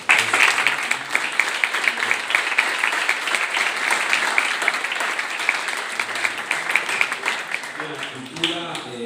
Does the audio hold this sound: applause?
yes